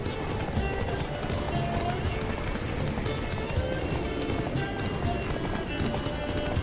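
Roach, Geralt's horse in The Witcher 3, gallops steadily with a continuous loud drum of hoofbeats and rushing movement, no pauses across the stretch, with a voice mixed in at times.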